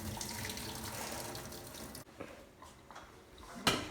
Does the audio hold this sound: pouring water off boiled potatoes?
yes